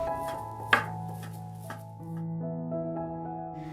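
A knife chops imitation crab meat into small pieces on a board, giving one sharp strike and a few softer taps over steady background music.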